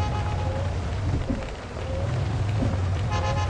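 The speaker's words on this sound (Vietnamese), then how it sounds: "bữa nay là trời mưa nè, ít người ta đi ra ngoài" Heavy rain pours steadily in the Minibus Simulator Vietnam video game, a dense continuous hiss close by, with a low engine rumble underneath from the County limousine minibus.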